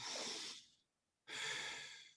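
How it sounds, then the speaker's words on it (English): Two slow, airy breaths close up, the first fading out, then a brief pause before the second begins with a sudden onset; no talking. "breathing in through the nose, the nasal breathing, the diaphragmatic breathing"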